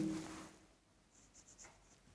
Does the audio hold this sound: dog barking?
no